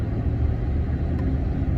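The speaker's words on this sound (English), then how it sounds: "I'm in the Super Duty service truck" Ford Super Duty service truck driving, a steady low engine rumble and road noise from inside the cab, continuous and fairly loud with no talk.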